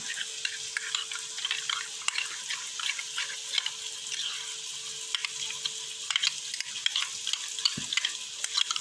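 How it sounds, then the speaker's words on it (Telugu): Soft wet scraping and clicking of a spoon stirring water into mustard powder to make a thick paste in a bowl, steady and close, with no talking. "ఇప్పుడు ఈ ఆవు పొడిలో నీళ్ళు కలుపుతున్నాను"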